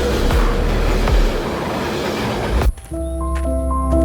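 A rumbling train rolls by loudly with steady clattering and low-end roar for nearly three seconds, then cuts abruptly into a quiet synth tone pattern.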